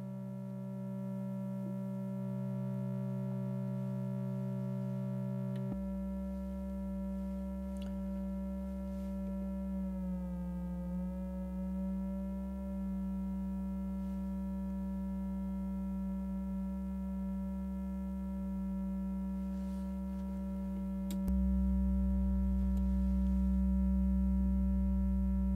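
Steady analog synthesizer tones from an analog wave twister module, a sustained buzzy drone that shifts timbre and pitch in stages, with a brief wavering bend in the middle and no voices.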